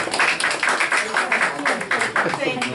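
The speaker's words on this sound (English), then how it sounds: "give them a round of applause." Audience applause at a League of Women Voters candidate forum held at the Rockland Fire Protection District, with dense, steady clapping filling the room throughout, with no other sounds.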